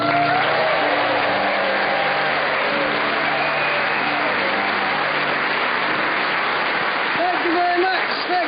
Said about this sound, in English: Lovely, lovely rousing applause.